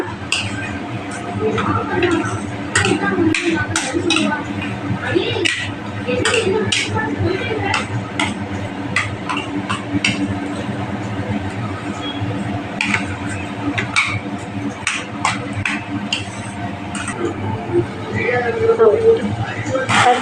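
Cooked lentils and greens are churned in a metal pot, with repeated clinking and scraping strokes at close range over a steady background while a person talks.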